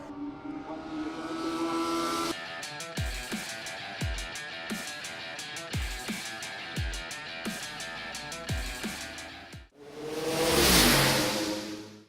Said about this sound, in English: sliding the car through the corner there as he gets chased down as well